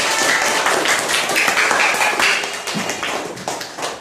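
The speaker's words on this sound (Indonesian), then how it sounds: "Bagus ya, beri tepuk tangan" Schoolchildren in a classroom clap for a group that has just presented, a brisk burst of many small hands that fades slightly toward the end.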